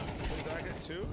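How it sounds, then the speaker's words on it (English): Rapid gunfire in a video game, a long burst of some eighty rounds sprayed into a smoke cloud, heard as a dense, steady volley with voices talking over it. "They shot 80 bullets at the smoke."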